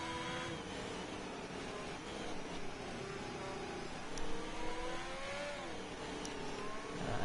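An F1 car engine in a racing video game, on the China circuit, holds a loud, steady high-pitched whine that rises and shifts in pitch through gear changes, with no voices.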